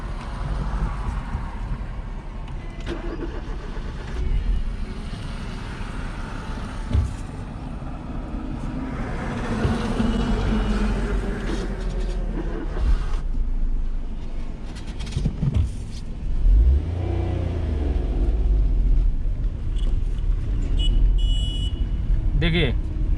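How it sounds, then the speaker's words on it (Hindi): A manual car pulls away after a shift into second gear as the clutch is released, a steady engine drone rising gently under an instructor's ongoing talk, with interior rumble throughout. "फिर से क्लच को छोड़े हम और फिर से रेस को लेना स्टार्ट किए"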